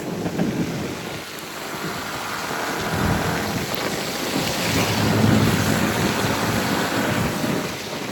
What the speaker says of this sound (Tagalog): Kahit umuulan guys.